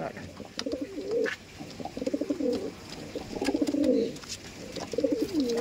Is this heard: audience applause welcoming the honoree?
no